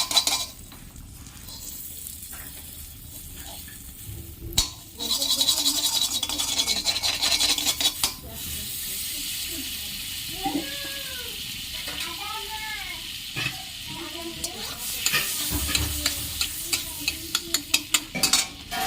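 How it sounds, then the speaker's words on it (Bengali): Chopped garlic, a pinch of black cumin and three green chilies fry in butter in a pan, a continuous close sizzle with stirring scrapes and knocks, broken midway by several short high vocal cries. "বাটারের উপর দুটো রসুনের কোয়া ছোট ছোট করে টুকরো করে কেটে নিয়েছি এক চিমটে কালো জিরে আর তিনটে কাঁচা লঙ্কা দিয়ে দিলাম"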